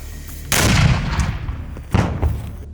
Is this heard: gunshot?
yes